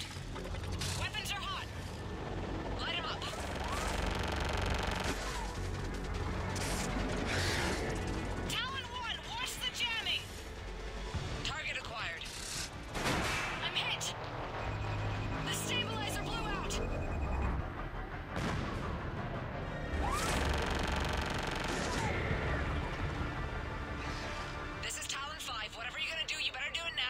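Air support fire on ground targets in Mass Effect 3 comes as repeated heavy bursts and mechanical clatter amid battle noise, with voices talking over much of it.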